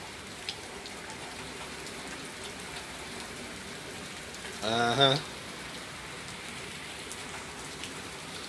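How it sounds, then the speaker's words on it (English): Light rain falls steadily, a soft, even patter on a rainy February day. A brief murmured voice breaks in once midway through. "Yeah, it's a rainy day, y'all."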